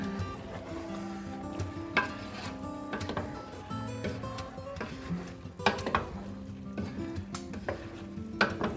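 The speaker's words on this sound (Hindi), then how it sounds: "ये रिमेनिंग मसाला मैंने इसमें डाला है और इसको मैं मिलाऊंगी।" Leftover masala for Hyderabadi baghare baingan is stirred in a pan: a close, irregular clatter of a spoon scraping and knocking the metal over a faint sizzle.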